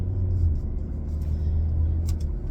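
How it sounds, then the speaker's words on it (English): An old car's loud engine rumbles steadily as it drives past, a continuous low drone throughout with no speech over it. "That old car is so loud."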